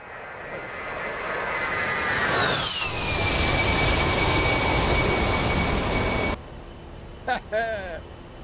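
An A-10C jet engine in the DCS World flight game drones steadily and loudly with a falling whine, then cuts away to quieter cockpit tones.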